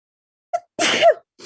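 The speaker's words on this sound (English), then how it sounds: "I feel like I'm about to sneeze." A single quick, light sneeze with a short catch of breath before it, close and fairly loud in a quiet room.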